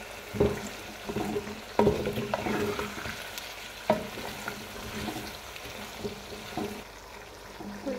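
Spices with chili flakes being stirred and fried in a pan, a steady sizzle broken by repeated scraping and clanking spoon strokes at irregular intervals, close and moderately loud, no voices.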